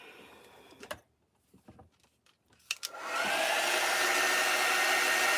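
A hair dryer switches on partway through and runs as a loud, steady whoosh, drying ink painted onto a t-shirt; before it starts there are only a few scattered knocks and faint handling sounds.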